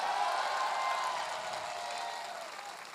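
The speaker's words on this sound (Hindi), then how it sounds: "ताली तो जबरदस्त बजनी चाहिए इस संस्था के लिए" An audience at a corporate success event claps for an organisation, a steady wash of many hands heard from some distance that slowly fades over three seconds, with no voices on top.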